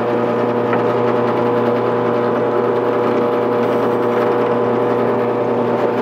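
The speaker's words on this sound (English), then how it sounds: "Then we use the forstner to come through from this side and we'll have perfect holes." A drill with a Forstner bit bores holes through a wooden reloading tray for 12 gauge shells, giving a steady, loud, continuous motor whine with a constant droning tone throughout.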